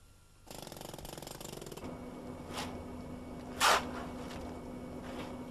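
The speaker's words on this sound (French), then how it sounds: "Le recépage est effectué avec le marteau-piqueur." Jackhammer breaking off poor-quality concrete from the head of a foundation pile, a loud rapid hammering burst of about a second and a half, then steady construction site noise with a few short clatters.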